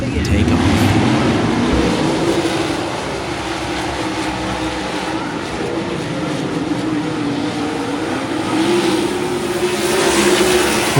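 Sprint race cars roar off together at a race start on a dirt oval in Kentucky, a loud dense engine wall that swells and holds steady, with a commentator talking over it.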